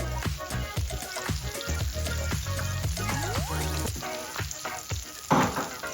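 Butter and sugar sizzle and crackle in a pan as the base for an apple tart with pecans, a steady close fry with scattered pops and stirring scrapes and no talking.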